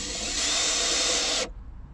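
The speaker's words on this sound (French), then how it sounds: "On va commencer par visser ça." Power drill driving a screw into a metal bracket, one loud close whine lasting about a second and a half before cutting off sharply.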